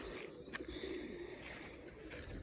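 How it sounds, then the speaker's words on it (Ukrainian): Pigeons being fed coo softly nearby over a low background murmur, with a few faint flutters and bird sounds. "голубів кормлю"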